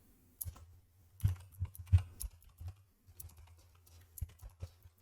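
Code typed on a computer keyboard in a Unity tutorial setting: irregular close key clicks, a few firmer taps and short bursts with pauses between, quiet and with no talking.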